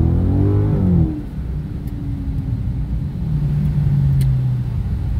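A 2018 Dodge Challenger R/T Scat Pack accelerates hard with a loud, deep V8 roar that climbs through a gear change and keeps pulling under steady full throttle.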